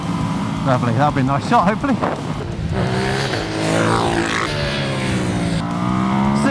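A 2019 Ducati Hypermotard 950 SP motorcycle engine revs hard and climbs in pitch as the rider lifts into a wheelie, loud and close, with wind noise and someone talking over it.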